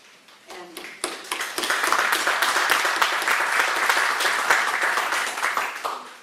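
An audience at an election candidate forum bursts into applause that builds quickly and holds as a dense, steady round of clapping.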